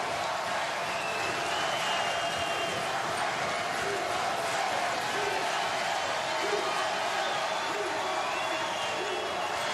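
Basketball arena crowd at an Arizona vs Gonzaga college game, a steady loud roar of cheering and noise filling the building throughout, with no pauses.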